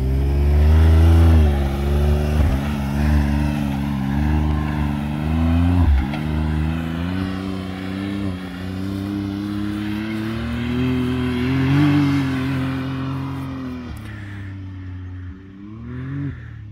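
A tuned 2020 Can-Am Turbo RR side-by-side engine holds a loud, close, fairly steady drone with gentle rises and dips in revs, running continuously without speech.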